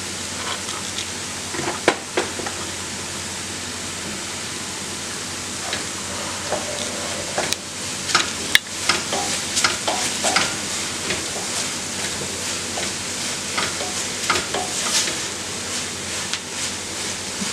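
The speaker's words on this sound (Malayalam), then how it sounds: "ഇതൊന്ന് വഴന്ന് വരട്ടെ." Onions and spices sauté in hot oil for a spicy Kerala beef curry, with a steady, close hiss of sizzling broken by scattered crackles and occasional clinks of a spoon against the pan.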